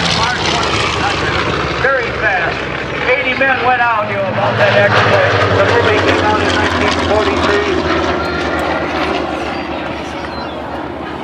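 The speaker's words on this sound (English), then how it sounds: "That's the airplane coming into view." A vintage World War II propeller warplane flies over a Florida air show, its loud engine drone swelling as it nears and then easing, with an announcer talking over it throughout.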